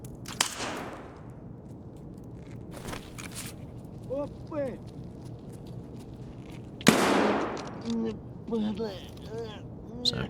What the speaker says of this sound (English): it sounds like there's a player down there with a Mosin